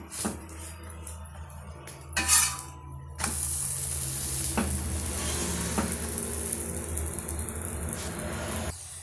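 A sweet potato poli cooks on a hot pan, a steady sizzle running throughout with brief scraping and pressing sounds and one sharper clatter as it is flipped, no voices.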